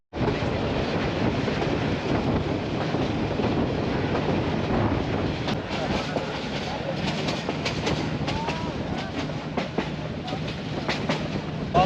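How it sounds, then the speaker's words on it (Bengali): Wind-buffeted roar of a moving train recorded from its roof on a Bangladeshi rail journey toward Dhaka near Mymensingh, with steady loud rumble and rattling throughout and gusty wind across the microphone. "আজকে ট্রেনটা একটু তাড়াতাড়ি যাচ্ছে"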